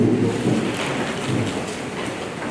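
Light drizzling morning rain falling steadily outdoors at a school farewell ceremony, a continuous soft hiss with no voices.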